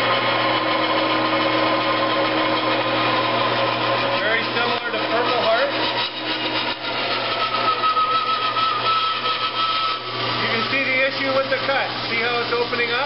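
A band saw resaws a board of extremely hard wet wood, running as a steady, loud machine drone with a slight rising strain as the blade cuts through, while someone talks over it.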